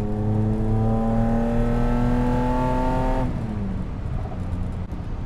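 A modified Datsun 280Z hot rod engine holds a loud, tonal high-rev howl with strong harmonics, then the revs drop away abruptly into a rougher, lower idle-like rumble.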